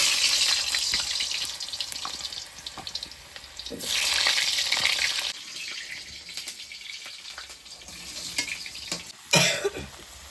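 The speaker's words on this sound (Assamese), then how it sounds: "এইফালে তেল গৰম হৈ গৈছে, দি দিছোঁ আলু" Cut potatoes dropped into hot oil in a kitchen, frying with a crackling sizzle that surges in bursts, along with a cough and a few knocks and clatters near the end.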